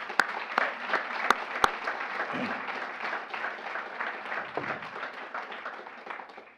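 Audience applause at a college speech showcase, a steady wash of many hands clapping at moderate level with a few sharp louder claps standing out early on.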